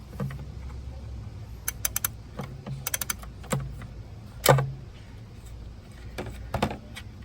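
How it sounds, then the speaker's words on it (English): Ratchet with a 13 mm socket removing a nut during alternator replacement on a 2007 Dodge Durango 4.7 litre V8, giving scattered sharp metallic clicks in short bursts, close up and fairly quiet. "I'm going to take that off with a ratchet"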